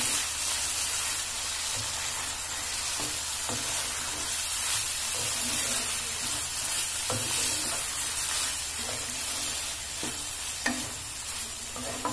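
Water hits frying masala in a pan, setting off a loud, steady sizzling hiss with scattered spoon scrapes and stirs, close by and continuous with no talking.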